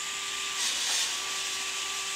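A DeWalt drill bores out a hole in a metal hinge pin for an RC truck, giving a steady, loud high-pitched whine with a brief swell in the middle, close up and with no voices.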